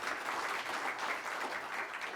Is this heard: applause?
yes